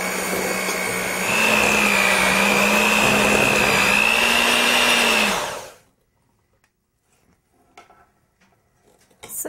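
A stand mixer creams vegan cookie dough ingredients, butter and sugar, with a loud steady motor whine that holds for about five seconds. It then winds down and stops, leaving near silence and a few faint clinks.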